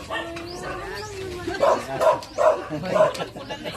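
Four quick, sharp dog barks come in a rapid series after a moment of people talking, close by and moderately loud.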